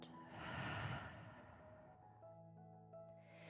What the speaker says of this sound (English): One more deep breath out.